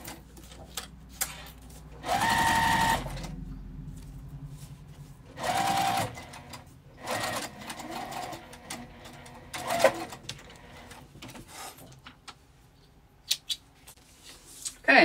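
Sewing machine stitching across a zipper pouch, in several separate bursts of loud steady whirring split by quiet pauses, with soft handling noises between.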